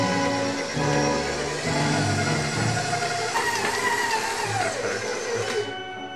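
A stand mixer runs on low speed, churning gluten-free galette dough for a strawberry rhubarb galette, giving a steady whirring motor hum with a slight rising whine that stops abruptly at the end.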